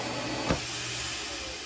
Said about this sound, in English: they opted to stuff a central vacuum system down there with that little electric toe kick